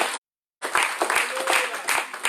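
A church congregation breaks into applause at a service. A brief burst of clapping cuts out into a short silence, then resumes as steady, fairly close clapping with a few sharper individual claps standing out.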